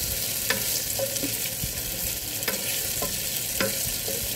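Tofu is sautéed in a pan while cooking string beans with tofu, giving a steady close sizzle with occasional scraping stirs and clicks of the utensil against the pan.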